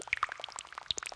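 Tomato juice pours in a short burst of bubbly, dribbly glugs and plops, close and clear with no talking.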